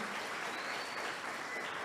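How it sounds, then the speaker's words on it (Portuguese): A church congregation applauds during a sermon, a steady, even wash of clapping from many hands that holds at the same level throughout the short stretch. "aplauda o Senhor então, glória ao nome dEle"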